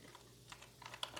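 Fingers typing on a computer keyboard, a few quiet, close key taps in a short burst against a faint room hum.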